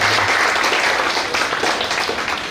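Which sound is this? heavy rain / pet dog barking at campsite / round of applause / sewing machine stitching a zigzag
round of applause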